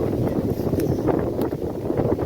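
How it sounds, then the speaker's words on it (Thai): Strong wind blowing hard outdoors, a loud, continuous buffeting roar battering the microphone with no pauses and no talk. "ลมแรงมากทุกคนนะ"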